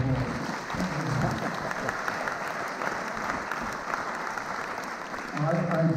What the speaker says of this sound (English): Can we give the organisers a round of applause?